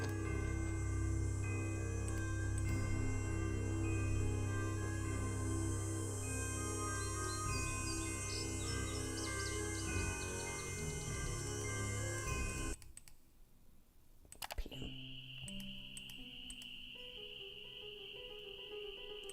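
Night-time insect ambience in the Nancy Drew game Ghost Dogs of Moon Lake, a dense steady chorus of chirping and ticking bugs that cuts off abruptly near the end, then resumes more sparsely with a high whine.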